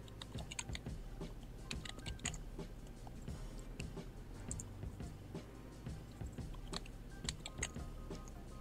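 Fingers tap a password on a computer keyboard, a quiet, steady run of close, light key clicks lasting several seconds with no talk.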